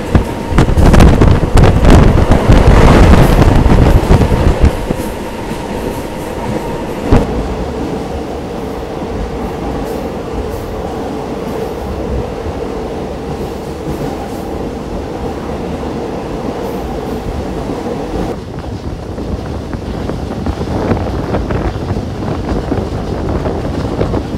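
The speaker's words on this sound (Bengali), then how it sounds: "ডেমো ট্রেনটা একটার পর একটা মারাত্মক টান নিচ্ছে" A DEMU train runs on rails from Agartala toward Udaipur, a continuous rumbling rattle heard from inside, loud with wind roar for the first few seconds, then a steadier, softer clatter.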